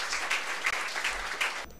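A gathered audience greets a speaker with steady applause, a dense even wash of claps at moderate loudness that breaks off abruptly at the end.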